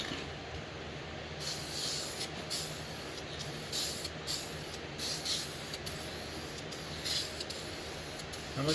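An engine is spray painted in coats, and the paint can gives repeated short hissing bursts. Each spray stops and starts over a low steady background hum.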